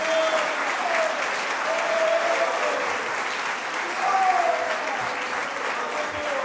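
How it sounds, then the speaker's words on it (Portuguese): A church congregation applauds with sustained, even clapping filling the room, while a voice or faint singing tones rise and fall beneath the applause. "Dê uma salva de palmas para Jesus."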